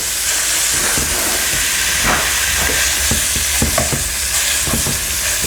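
Steady, loud sizzling of meat frying in a hot pan for bourbon and bacon chili, a continuous crackling hiss with occasional sharper pops, no voices.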